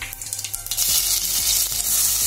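Ajwain (carom seeds) hit hot oil for a chole bhature dish and set off a loud, steady sizzle and crackle that swells after a brief lighter start, with no voices.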